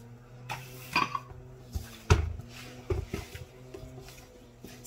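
Pie ingredients being mixed in a bowl, quiet and sparse: a few separate clinks and knocks of a utensil against the bowl spread over a few seconds, with a low steady hum underneath.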